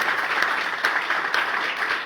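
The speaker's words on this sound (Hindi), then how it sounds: "ताली दो ठोकिए साहब।" A seated audience at a business training seminar gives steady, close, continuous applause that fills the whole moment, with no voices over it.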